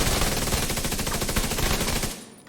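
Assault rifle fire from The Division 2, a dense, loud sustained automatic burst of rapid shots that runs for about two seconds before cutting off and fading.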